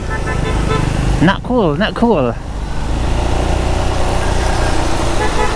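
Heavy road traffic on a flooded street in the rain, with a constant loud rumble of idling engines and a car horn tooting near the start while someone speaks briefly.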